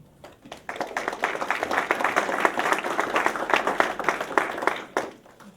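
An audience at the 2020 State of the San Lorenzo Symposium claps warmly to welcome speaker Kristen Kittleson, the dense applause swelling quickly, holding for several seconds, then tapering off.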